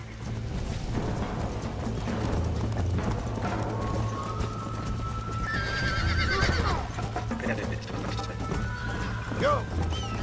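In Red Dead Redemption, horses whinny sharply and gallop with rapid hoofbeats during a race, loud and close, amid game sounds and talking voices.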